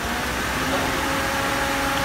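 A steady, low mechanical hum of an idling car engine with a faint tonal whine, continuous and fairly close, no talking.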